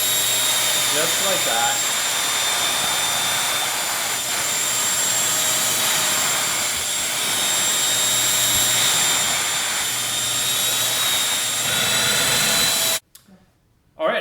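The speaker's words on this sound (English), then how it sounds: "You just turn it on and you get rid of all the hair" A Bissell Featherweight stick vacuum sucks hair off a sofa with a loud, steady whirring drone that runs nearly throughout, briefly under a voice, then cuts off abruptly near the end.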